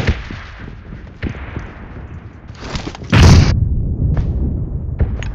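A bomb explodes in a battle royale shooter, a single loud, close blast with a sharp onset that settles into a rumbling tail, preceded by scattered thuds and small knocks.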